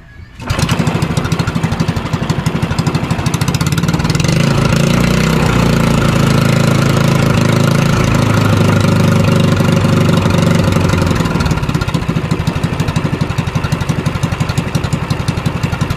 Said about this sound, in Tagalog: Generator na po yan.